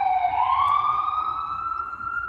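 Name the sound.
sirens in the background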